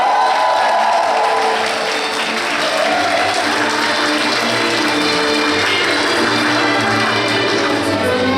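Applause and crowd noise fill the hall for Helenice and Genivaldo, a couple marking 32 years of marriage at a vow renewal ceremony, with steady clapping and a few cheers and whoops sustained loud throughout.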